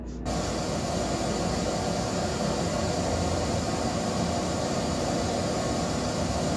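A single line array speaker unit with an ordinary horn switches on abruptly and emits a loud, steady, broadband hiss that continues unchanged.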